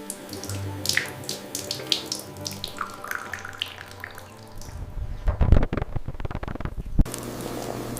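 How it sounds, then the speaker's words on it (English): Running cold tap water splashes and trickles steadily, with a brief louder gush partway through as rice is rinsed beneath the stream. "make sure to rinse the rice thoroughly under cold water until it runs clear"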